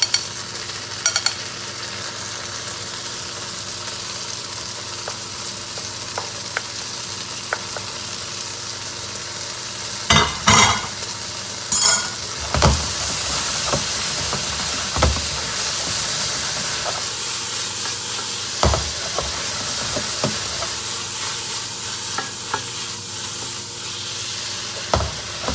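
Chicken hearts stir-frying in a pan with a cornstarch-thickened sauce, giving a steady sizzle and hiss broken by several sharp clatters and scrapes of stirring, with no talk.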